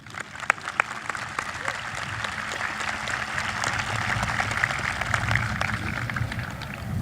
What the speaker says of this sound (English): Please join me in expressing our appreciation with another round of applause.